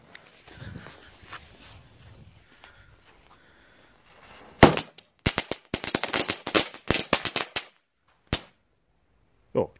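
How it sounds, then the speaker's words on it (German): Firecrackers go off outdoors in snow, a mini banger and a meteor firework: after a quiet rumbling start, a loud crack leads into a rapid, irregular burst of sharp pops, then a single late bang. "Der Mini-Knaller und der Meteorit."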